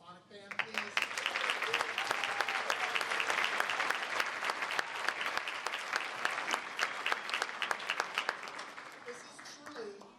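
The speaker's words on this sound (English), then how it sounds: "I'd like to give a round of applause for the High School Symphonic Band, please" An audience at a high school symphonic band concert applauds, dense sustained clapping that rises quickly, holds steady for several seconds and then starts to thin out near the end.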